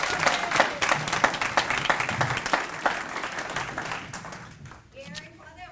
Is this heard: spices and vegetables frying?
no